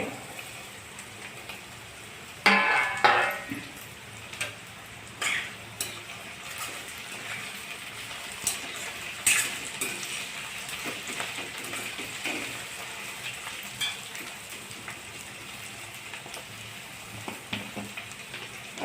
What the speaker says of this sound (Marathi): आता मी मटार घालत आहे